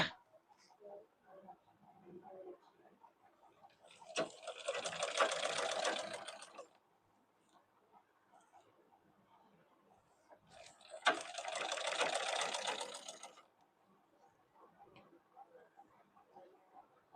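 A sewing machine stitches a blouse in two sustained bursts of rapid, even needle clatter, each a couple of seconds long, separated by quieter pauses with faint handling noise.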